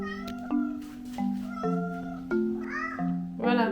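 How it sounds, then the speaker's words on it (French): A house cat meows repeatedly behind a closed door, wanting it opened, around mealtime; several loud, drawn-out cries come one after another at a steady pace, some rising into strained, whiny wails, with no talk over them. "derrière la porte j'ai un chat qui n'aime pas que la porte soit fermée"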